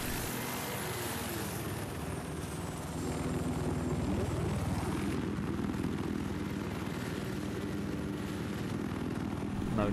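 In Battlefield 4, a scout helicopter flies with a steady rotor thrum and a whining engine tone that sweeps in pitch midway. The drone stays loud and continuous throughout, with no speech.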